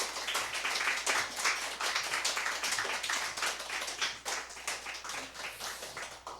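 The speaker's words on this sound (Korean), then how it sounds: "우리 박수로 맞이하겠습니다." Church congregation at an Easter Sunday service applauds to welcome the preacher, brisk close-miked clapping with a crisp, uneven rhythm that holds steady throughout.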